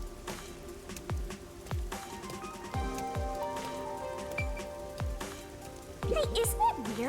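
Steady rain patters through the video game Master Detective Archives: Rain Code, a constant wash of drops under repeated low thumps and soft game tones.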